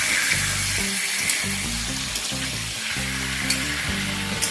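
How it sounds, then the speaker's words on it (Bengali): Chicken pieces fry steadily in a pan over a medium-high gas flame, a loud continuous sizzle with a few brief spatters and crackles, no voices present. "গ্যাসের ফ্লেমটা মিডিয়াম টু হাইতে রেখে চিকেনটাকে প্রথমে একটুখানি ভেজে নেব।"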